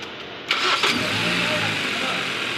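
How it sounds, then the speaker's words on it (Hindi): A Hyundai car engine cranks briefly and catches, then settles into a steady mid-pitched idle that runs on continuously close by. "स्टार्ट करो गाड़ी"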